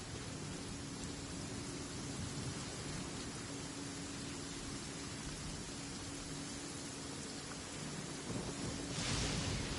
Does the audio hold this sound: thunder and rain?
yes